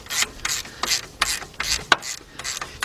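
A ratchet wrench tightens an alternator bolt on a 1986 Mercury Marquis with a 3.8 engine, giving a steady run of close, rhythmic metallic clicks and rasps without talking.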